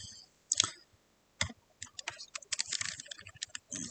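An address is typed on a computer keyboard in bursts of close, crisp key clicks with short pauses between runs, quiet and without speech.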